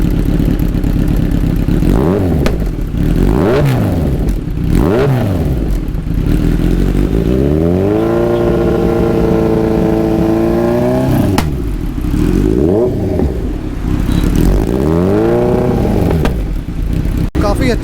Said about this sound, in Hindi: तो अभी हमारा आ रहा है थर्ड एग्जॉस्ट, जो कि एक्रापोविक है। ये हम विदाउट DB किलर आपको सुनाएंगे